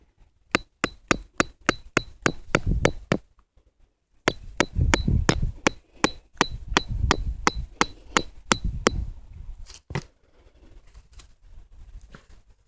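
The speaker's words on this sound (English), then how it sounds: "What I do is I put my screwdriver in. I use my hammer." Sharp metallic hammer strikes driving a screwdriver into soil for planting a living fence, two quick rhythmic bursts of about eight blows each, close and loud, with a few scattered taps trailing off.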